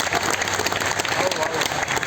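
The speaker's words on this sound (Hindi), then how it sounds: "जोरदार ताली सब एक दूसरे" An audience breaks into loud, dense applause at a public address, a steady wash of clapping with a voice audible over it.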